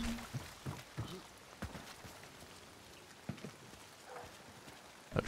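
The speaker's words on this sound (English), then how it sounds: "Raindrops." Rain falls in the video game Hunt: Showdown, a soft steady patter broken by scattered sharp taps and knocks like nearby footsteps, moderately quiet throughout.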